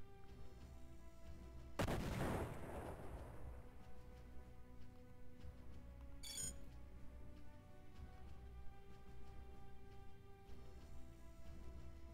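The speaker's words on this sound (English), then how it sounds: "Firing begins." Artillery fire in the space strategy game Imperium Galactica: one loud booming shot with a decaying rumble, then a sharper burst a few seconds later, over a steady droning background hum.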